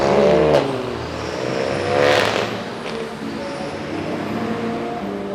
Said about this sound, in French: je vous fais écouter le cold start et une petite partie en autobahn